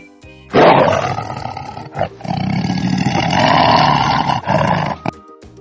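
A tiger lets out a loud, close growling roar that rises sharply, rumbles on for several seconds with brief breaks, then trails off.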